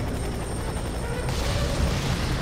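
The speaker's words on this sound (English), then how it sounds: "I guess you shoot the helicopter." A helicopter in the video game F.E.A.R. 3 thrums continuously with a loud, dense rotor roar that fills the whole stretch, a steady close wash with no speech.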